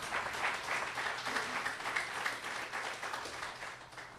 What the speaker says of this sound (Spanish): Den un aplauso a Dios por la vida de Moisés.